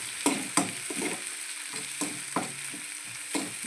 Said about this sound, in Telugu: గోల్డ్ కలర్ వచ్చేలాగా వేగనిద్దాం